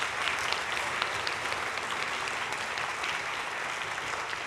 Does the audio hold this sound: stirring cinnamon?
no